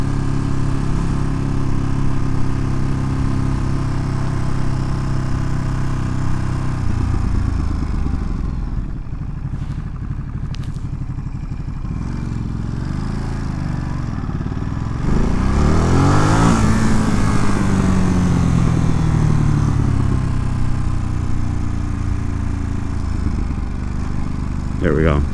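A 2022 Ducati Monster Plus motorcycle engine drones steadily while riding, loud and close throughout, with a rising rev swell near the middle and wind rush over it.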